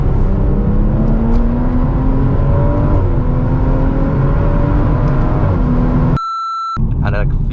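A Stage 1 tuned BMW M135i making about 385 bhp accelerates hard, its engine note rising steadily through a long pull with a loud, constant drone. The sound cuts out abruptly near the end and then returns.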